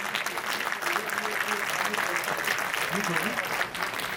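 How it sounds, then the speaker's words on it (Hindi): Loud, steady clapping from an audience at an indoor gathering, a dense continuous roar of hands with a voice speaking faintly underneath. "तो कृपया तालियां बजाइए एक बार जोरदार करतल ध्वनि के साथ।"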